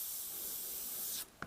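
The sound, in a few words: airbrush spraying paint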